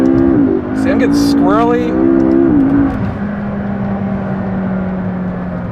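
A McLaren MP4-12C supercar's engine revs and drones loudly from inside the cabin while driving, with a steady tone rising and falling over several seconds as someone talks over it.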